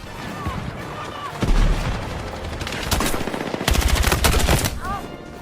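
Gunfire and explosions from the video game Battlefield 6 burst loudly in rapid automatic volleys and heavy booms, with sharp cracks throughout and someone talking over the chaos.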